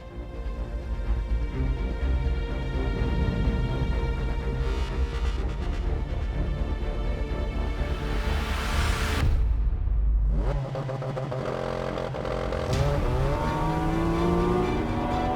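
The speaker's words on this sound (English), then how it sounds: "That noise is the 4-litre naturally aspirated flat 6 from this car's bigger brother, the 911 GT3." A Porsche 718 Cayman GT4 RS's 4-litre naturally aspirated flat-six engine revs hard and continuously, rising in pitch, briefly dropping off, then climbing again through the gears, loud and close.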